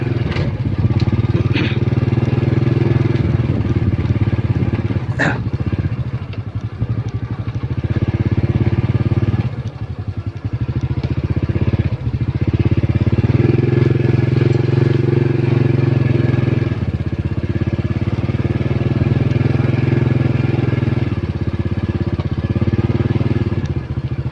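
A motorcycle rides along paths through rice fields, its engine droning loud and close with steady revving and slight pitch shifts throughout, a brief clatter partway through and occasional faint voices underneath.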